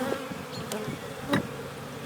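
Honey bees buzz at an opened hive during a May inspection, a dense, close, continuous hum with a few louder passes as individual bees fly near.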